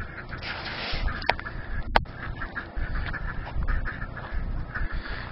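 Three ducks beside a small dirty pond give low, raspy quacks and snuffling sounds against steady outdoor background noise, with a couple of sharp clicks.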